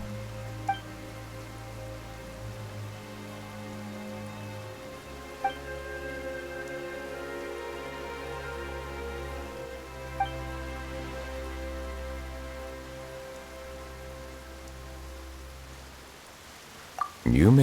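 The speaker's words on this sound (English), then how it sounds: "Why is it raining all of a sudden?" Sudden steady rain falls in a fantasy story scene, a continuous soft hiss of drops on surfaces heard under sustained music and voices, with a few brief sharp accents.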